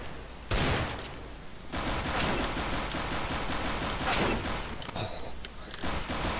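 Desert Eagle pistol gunfire in a ragdoll video game: dense, loud bursts of rapid shots and impacts layered over constant game noise and music, with no clear pauses.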